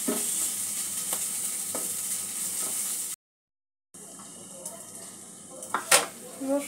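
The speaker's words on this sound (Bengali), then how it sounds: "রসুন আর আদাটা আমার ভাজা হয়ে গেছে, কয়েক সেকেন্ড আমি ভেজে নিয়েছি।" Garlic and ginger fry in a pan for chicken egg soup, a continuous sizzle with occasional clinks of a spoon against the pan, broken by a brief silence before sharper utensil scrapes.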